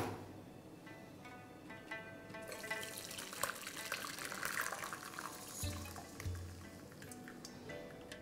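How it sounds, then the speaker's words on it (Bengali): Whey trickles and splashes steadily from freshly split chhena through a sieve in a home kitchen, a continuous watery pour with small clinks and shifts, no talking. "এবার ছানার জলটা এইভাবেই ঝরতে দিন"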